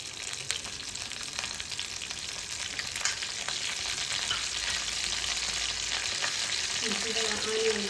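Cinnamon, cloves, star anise and other whole spices frying in hot oil for an egg sambar, a constant close sizzle with a faint clink near the end.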